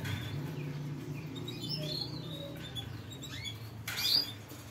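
A newly hatched canary chick chirps in a breeding cage, thin high faint peeps scattered over a steady low hum, with a louder burst near the end.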